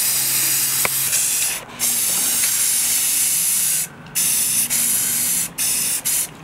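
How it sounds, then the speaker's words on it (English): Aerosol spray paint cans hissing into a jar for hydro dipping, several loud close bursts of spray with short pauses between them, no talking. "I'm gonna spray paint them right into the jar."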